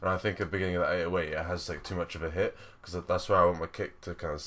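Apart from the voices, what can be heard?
No everyday noises stand out.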